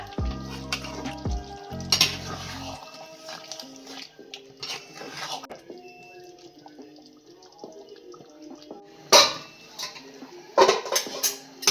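A spicy Bengali-style egg curry with coriander leaves simmers in a pan, giving a soft sizzle and bubble. Utensils clink and scrape against the pan in a few louder bursts, and nobody speaks.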